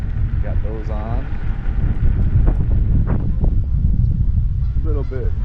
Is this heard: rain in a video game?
no